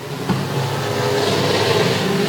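Race cars roar past on a short oval at Sauble Speedway during a race, a loud continuous blur of engines with no break.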